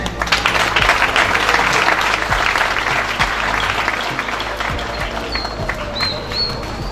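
An audience at a school end-of-term closing ceremony applauds loudly, dense clapping that swells early and then gradually thins and fades, with a few crowd voices and whistles near the end.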